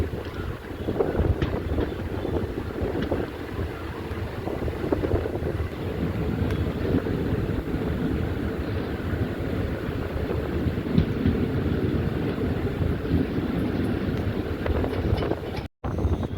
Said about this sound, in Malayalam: അമ്പലപ്പുഴ സ്റ്റേഷനിൽ നിന്ന് ട്രെയിൻ എടുക്കുകയാണ്